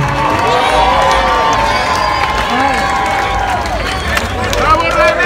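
A large crowd at a downhill race in Puerto Vallarta cheers and applauds continuously, loud and close, with shouts rising over a dense hubbub of voices and a speaker talking through it.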